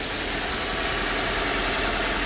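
A 2015 Subaru Impreza Sport with a 2.5-liter flat-four engine idles steadily, a constant smooth even rumble heard close up with no voices.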